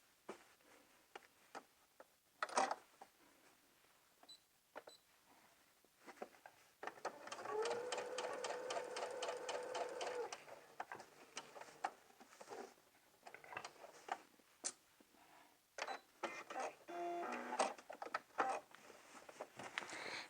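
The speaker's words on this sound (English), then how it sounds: "with your machine set for a basting stitch, we're going to baste from the top edge down to where this second pin is" A sewing machine runs a basting stitch along the fold of a skirt pleat in two rapid, rattling bursts, each lasting a few seconds. Quiet handling clicks and rustles fall between the bursts in a calm indoor setting.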